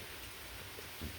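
Wind-blown rain falling outdoors, a faint, steady hiss of drops with a soft low thump near the end.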